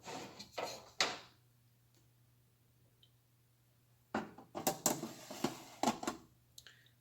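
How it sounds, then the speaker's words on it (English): Several metallic scrapes and clatters in two bursts separated by a quiet stretch, as pans slide onto the racks of a Kalorik smart fryer oven nearby. "I'm gonna put my other pans in here."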